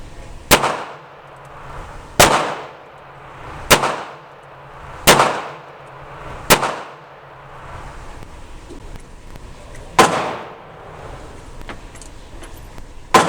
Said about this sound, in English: We're going to put some rounds through the revolver and see how she shoots.